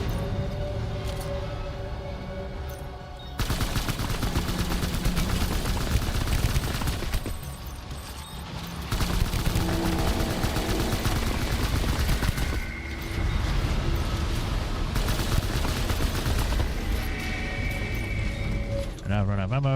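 Bursts of rapid gunfire in Death Stranding crackle in dense volleys separated by short lulls, loud and close, while a player talks over the action in several stretches.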